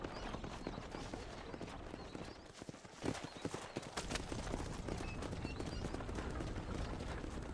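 Horse hooves clip-clopping in a steady trotting rhythm in the Red Dead Redemption video game, close and continuous over a busy game soundscape, faint overall with no talk.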